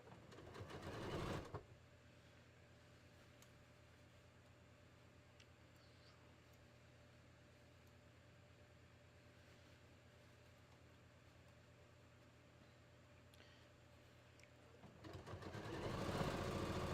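A sewing machine runs steadily stitching around a bodice sleeve, a constant quiet hum and whir for most of the time, framed by louder handling noises at the start and end.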